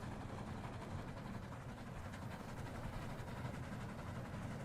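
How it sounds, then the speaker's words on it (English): A train rumbling in the video game 99 Nights in the Forest, a steady low mechanical drone with faint rhythmic clatter, alone and fairly quiet. "And this is what the train sounds like."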